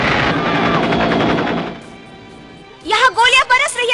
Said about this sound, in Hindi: यहाँ गोलियां बरस रही है रिकॉर्ड्स ऑफिस पर